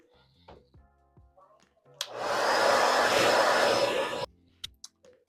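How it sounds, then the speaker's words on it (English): A hair dryer blows on a lace front wig, switching on with a steady whooshing roar for about two seconds before stopping; faint handling noises and a voice come before and after. "Let's blow dry it."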